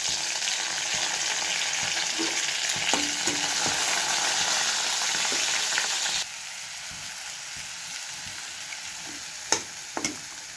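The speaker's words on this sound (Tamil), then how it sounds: "எண்ணெய் காய்ந்ததும் கடுகு, உளுத்தம்பருப்பு, பெருங்காயம் சேர்க்கவும்." Mustard seeds, urad dal and asafoetida fry in hot oil for a mango pachadi, giving a steady, close, dense sizzle with scattered pops and crackles. Partway through the hiss drops to a quieter level, and a few sharp pops follow near the end.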